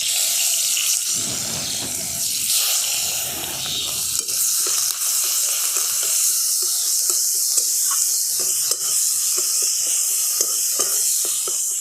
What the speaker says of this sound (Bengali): জিরেগুলো যখন একটু ভাজা ভাজা হয়ে যাবে এখানে দিয়ে দিচ্ছি গ্রেট করে রাখা পেঁয়াজ